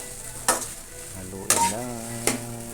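Ampalaya sotanghon with oyster sauce sizzles in a pan while being stirred, with three sharp utensil scrapes against the pan over a steady frying hiss.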